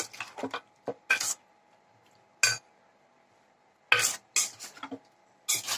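A spoon mixes chicken biryani marinade in a bowl, giving short, bright, wet scraping bursts separated by quiet pauses, close and fairly clear.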